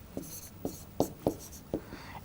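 Chalk or pen strokes while writing out maths equations, five or six short, separate taps and scrapes spaced about half a second apart, fairly close and quiet, with no talk over them.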